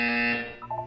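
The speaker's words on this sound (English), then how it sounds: "When you hear the buzzer, look down at the floor." Electronic buzzer tone in the video game Portal 2, a loud, steady harmonic buzz that holds for about half a second, then shifts into a brief wavering electronic chime.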